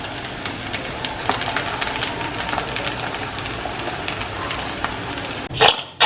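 Spicy French fries bubble and crackle in hot oil in a pan: a close, continuous spitting sizzle with scattered pops, then a short scrape or knock near the end.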